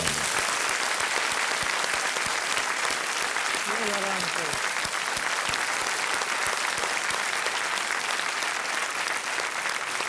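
A studio audience on a televised quiz show applauds a contestant, continuous dense clapping that stays loud and even throughout, with a brief voice surfacing under it.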